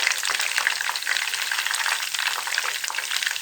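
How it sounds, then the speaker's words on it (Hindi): Chicken pieces browning in a pan for nihari give a steady, dense sizzle and crackle that holds at an even level throughout, close up and without voices. "ये हमने चिकन की पीसों को अच्छी तरह भून लिया है।"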